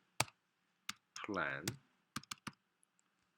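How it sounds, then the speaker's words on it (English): Several sharp key clicks from a computer keyboard, scattered in short bursts around a brief spoken word, close and fairly quiet. "Let me type it."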